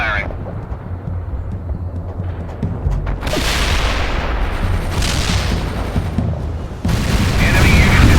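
World in Conflict artillery fires heavy, booming rumbles that roll and overlap into a loud, sustained barrage. A voice speaks briefly under the noise.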